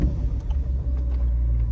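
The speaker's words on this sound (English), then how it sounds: "let's go ahead and start her up" A 2019 Ferrari Portofino engine turns over and settles into a steady deep idle, a constant low rumble that fills the clip alone with no voices.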